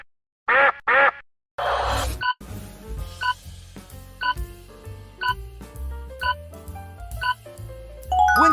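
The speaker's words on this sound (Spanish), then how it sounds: "¡Buen trabajo! ¡Es un pato!" Duck quacking in an animal-sound guessing game: two loud, nasal quacks close together, then a pause before cheerful music with bell-like chimes takes over.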